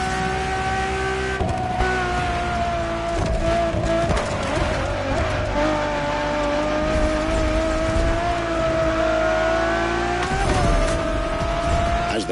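Ferrari Enzo supercar in The Crew Motorfest racing game, its engine holding a loud, steady high-pitched drone with gear-shift dips and rises, tyre squeal and skidding mixed in throughout.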